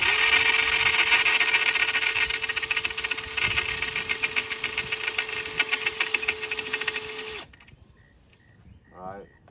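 A power drill bores out a rivet on a fourth-generation F-body convertible top frame, whining steadily for about seven seconds before cutting off, followed by faint clatter and a brief voice.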